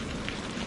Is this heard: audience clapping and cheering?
no